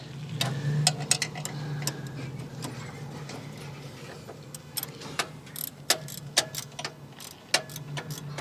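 Irregular metallic clicks and taps from a wrench tightening a part on a Bad Boy zero turn mower during a tracking adjustment, fairly close, scattered over a low steady hum.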